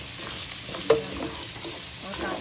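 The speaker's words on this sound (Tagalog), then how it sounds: "ginisa natin sa bawang, sibuyas, celery" Garlic, onion and celery sautéing in a pan for ginisang mongo, a dense continuous sizzle with a single brief clink of the utensil partway through, close and steady, no talking.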